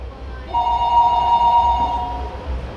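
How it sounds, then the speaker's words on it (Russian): Landline home telephone ringing with a steady electronic tone that sustains for about a second and a half over low room rumble. "Вроде как домашний звонит."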